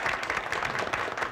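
An audience at a parish evening gathering applauds the priest with steady, dense clapping from a crowd throughout.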